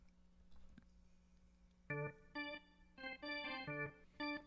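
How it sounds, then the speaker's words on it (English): A drawbar organ plays a simple series of short sustained chords and notes, clean and fairly quiet, after a near-silent start. "let's start with the draw organ here"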